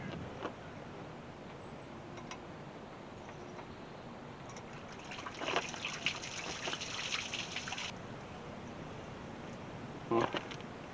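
Steady trickling and dribbling of water draining from the cooling system of a 1992 Thomas school bus, a continuous wash with a brief louder stretch midway and a short splash near the end, heard close with no talk.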